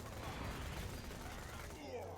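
Sledge's Shotgun blasting in Borderlands 2, a dense run of overlapping heavy shots forming a loud, sustained barrage with rumbling low end, close and filling the whole stretch.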